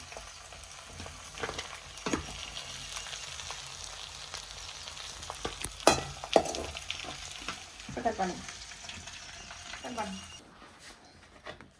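Chicken pieces frying in oil in a pan for chicken rice, a steady hiss with occasional clatters and stirring scrapes, moderately loud and close, with a voice speaking over it.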